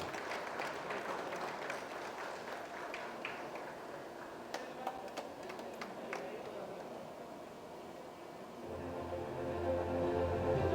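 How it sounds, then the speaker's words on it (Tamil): Audience applause at an organ donor honouring ceremony in Chennai, a steady wash of clapping from a crowd that gradually thins out and fades away. "நல்ல ஒரு பலத்த கைத்தட்டல்."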